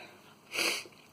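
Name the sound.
sneeze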